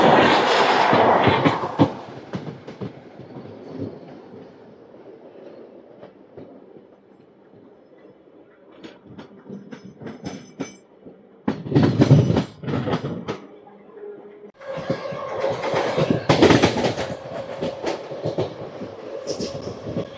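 An Uday Express train passes close by, with rumbling wheels, clattering rail joints and bursts of loud rushing noise that surge, fade and return across the stretch.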